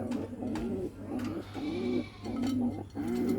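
Several soft, rounded coos from Giribaz pigeons follow one another in a regular rhythm, nearby and fairly loud, set against a continuous low background hum.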